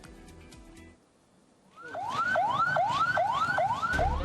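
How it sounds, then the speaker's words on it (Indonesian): An ambulance siren wails in a repeating rising-and-falling cycle as the ambulance arrives at a home in Marga Jaya, Negara Batin, Waikanan, loud and close after a brief quiet stretch. "Warga menyambut kedatangan ambulans di rumah Zainuddin"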